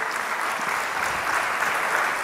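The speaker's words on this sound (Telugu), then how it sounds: "చప్పట్లు కొట్టి దేవుని స్తుతిద్దాం." A church congregation claps in praise during a Telugu Christian sermon, a loud, dense and steady stretch of applause from many hands, with no voices.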